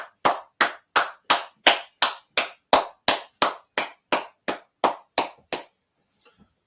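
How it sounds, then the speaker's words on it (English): A class ends a language session by clapping in unison: about fifteen sharp, evenly spaced claps in a steady beat, loud and close, then silence. "Let's clap it up"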